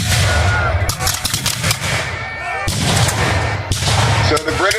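Musket gunfire crackles at a War of 1812 battle reenactment, loud, dense, overlapping shots and booms that run continuously outdoors, with several sharp reports standing out.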